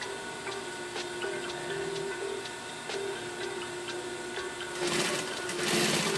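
Sewing machine back stitching a seam, running in a steady, even mechanical rattle with faint regular ticks, briefly getting louder and busier near the end.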